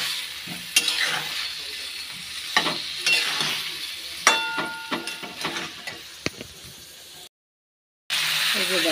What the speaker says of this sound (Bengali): ফুলকপি আলুটা ভাজা হয়ে গেছে কষানো মশলা দিয়ে